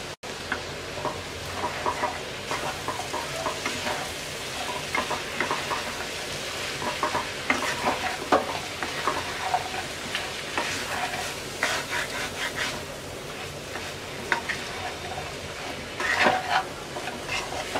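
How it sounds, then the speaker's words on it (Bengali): Stems and jackfruit seeds stir-fry with dried chepa shutki fish in a pan, a steady sizzle broken by repeated scraping stirs, with faint clucking chickens somewhere in the background. "এবার একদম অল্প আঁচে 5 মিনিট কষিয়ে নেব।"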